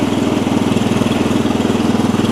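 A classic Cub Cadet 70 garden tractor engine runs close by, a loud, steady pulsing small-engine putter held going with light clutch pressure.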